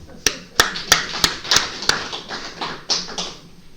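Several sharp, evenly spaced claps from a church congregation during a sermon ring out one after another, then fade, with a voice murmuring underneath.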